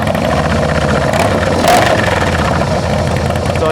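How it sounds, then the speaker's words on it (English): Harley-Davidson Softail Slim S FLSS with a 110 engine idling through a stock exhaust with the baffles removed, a loud, steady, deep rumble close by throughout. "So it does sound like they probably took the baffles out of the stock exhaust system."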